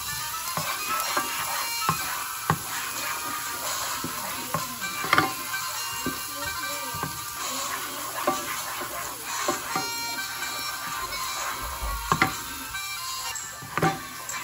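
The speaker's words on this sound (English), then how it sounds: "Half of the onion, And we're gonna cook this down until translucent." Half an onion cooks down in a pan with a steady, moderate sizzle and scattered soft clicks and taps of a utensil throughout.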